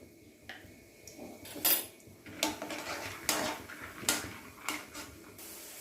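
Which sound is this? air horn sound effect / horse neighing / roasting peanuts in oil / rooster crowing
roasting peanuts in oil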